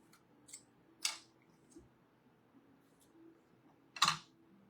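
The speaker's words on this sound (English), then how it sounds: "I didn't want a bow, so I just took a piece with my ribbon scissors." Two crisp snips of ribbon scissors cutting ribbon stand out in a quiet room, one early and a louder one near the end, with faint small clicks between.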